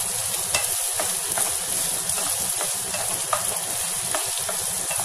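Onions frying and being stirred in a pan for carrot rice: a steady, dense sizzle runs throughout, with frequent scraping clicks of the spoon against the pan, close and alone with no talk.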